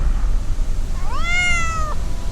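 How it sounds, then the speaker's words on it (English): A black cat gives one drawn-out meow outdoors on a breezy night, rising then falling, clear against a low wind rumble. "now we are being visited by a black cat"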